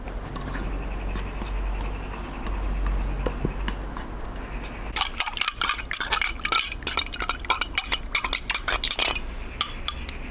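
Dry salt and sugar being stirred into flour in a mixing bowl for focaccia dough, with soft scraping swirls at first, then a busier run of clinks and taps of utensil against the bowl, close and steady.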